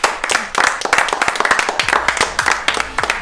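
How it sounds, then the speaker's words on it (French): A small group claps by hand for a man named Alain, a few nearby people producing distinct, uneven individual claps rather than a dense roar. "je pense qu'on peut tous l'applaudir"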